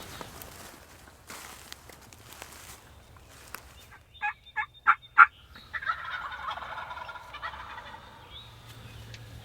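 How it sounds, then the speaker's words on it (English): Wild turkeys gobble in a run of four loud, close calls near a hunting blind in the Michigan woods, followed by softer clucking and rustling, with faint footsteps and leaf noise before. "These turkeys are just skirting around the side of me. I can hear them right back here"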